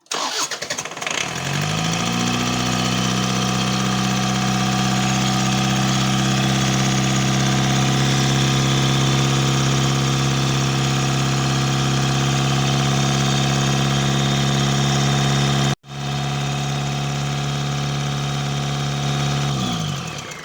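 A Rover 45 TD diesel engine with an adapted injection pump starts and settles into a loud, steady idle close by, with a brief cut near the end before it carries on running.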